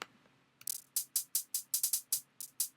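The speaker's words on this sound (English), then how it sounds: "Then I have some hi-hats." Hi-hat samples from a free trap sample pack, used in a future bass track: about a dozen crisp, bright hits in a slightly uneven rhythm, played alone with no talking.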